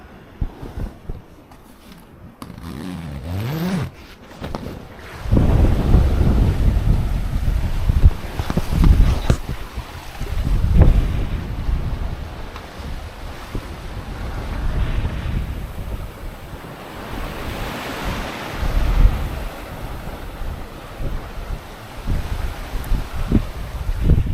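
Water sloshing and lapping steadily against a sailboat hull at sea off Portugal and Morocco, with gusts of wind buffeting the microphone throughout.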